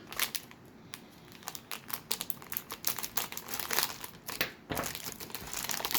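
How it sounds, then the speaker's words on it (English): A mail package being cut open during an unboxing, with close, continuous crinkling and crunching of packaging material and short tearing bursts throughout, no voices heard. "Let me cut it open."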